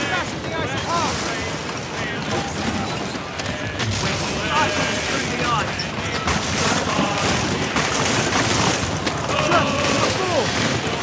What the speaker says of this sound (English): we'll have to break through an ice sheet that's blocking access to the area. Our ship is already equipped with an icebreaker ram